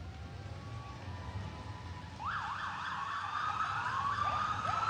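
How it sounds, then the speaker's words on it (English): Police sirens wail from vehicles moving up 13th Street at the University of Florida 2022 homecoming parade, a sweeping yelp-and-wail pattern that grows louder midway over steady outdoor street noise, with no talking. "Let's listen in on the sirens."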